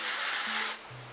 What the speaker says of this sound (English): Take your hairspray.